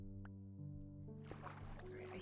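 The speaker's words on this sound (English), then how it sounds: "Alright, I hear flowing water," Faint flowing water trickles in Minecraft while digging out an end portal, a soft rushing wash that rises partway through beneath sustained background music tones.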